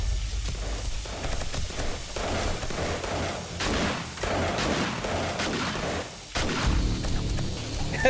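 Gunfire in the survival game 7 Days To Die during a day-70 horde fight, with dense, continuous bursts of shots and booms blending into a loud, chaotic barrage that runs throughout with little pause.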